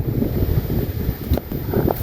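Dry wind blows outdoors in a garden, buffeting the microphone with a steady rumbling rush and small gusts, and no voices are heard.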